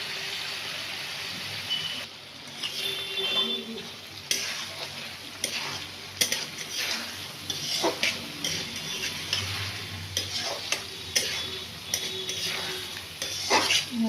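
Egg dhoka pieces going into spiced oil in a pan for an egg dhoka curry, with steady sizzling frying and repeated scraping, stirring strokes and light clinks of a utensil against the pan, close and continuous.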